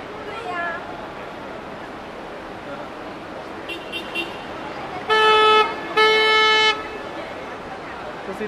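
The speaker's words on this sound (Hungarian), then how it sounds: "Így megy, dudálnak ezerrel," Two loud car horn blasts sound back to back, the second slightly longer, over a steady hum of traffic and faint voices in Times Square, Manhattan.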